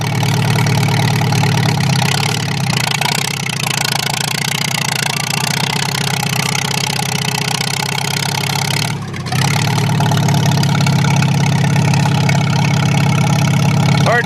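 A Farmall tractor engine idles close by, a loud steady rumble with a rhythmic knock, briefly dipping before resuming its even drone.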